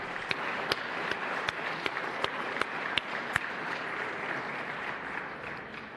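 Steady applause from a modest crowd during a state House legislative session, a continuous patter of clapping at moderate distance with a few sharper claps standing out, fading slightly at the end.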